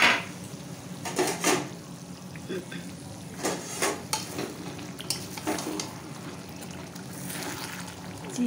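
Chicken fries in a large kadai on a gas stove at home, with a steady low sizzle and intermittent louder scrapes and stirs from a utensil against the pan, while people talk nearby.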